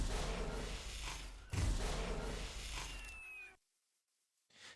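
Repulsor weapons firing in the Minecraft Stark Tech mod, a dense loud stream of blasts and thumps that runs for about three seconds with a heavy hit midway, ending in a rising whine before cutting to near silence.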